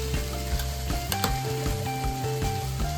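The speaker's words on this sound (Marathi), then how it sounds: "आता मी वाटप एका साईडला भाजून घेते चांगलं" Ground masala for a Malvani crab curry sizzles and crackles in a pan without a break. Small pops and stirring scrapes come through, with no voices.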